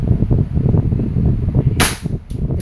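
A DB Airsoft Glock 17 gas pistol fires once with a sharp, loud crack, followed shortly by a smaller snap over a steady room murmur.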